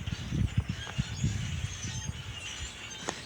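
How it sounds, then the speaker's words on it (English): A large flock of birds gathered outdoors honks and squawks in overlapping, uneven bursts, a busy chattering mass heard from a moderate distance with no speech. "All them birds are having a meeting"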